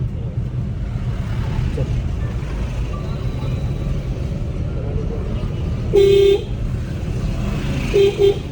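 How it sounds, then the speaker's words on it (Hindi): A car horn sounds on a busy road amid steady engine and traffic rumble, one longer toot followed by two short quick blasts, close and loud over the background drone. "हॉर्न दीजिए"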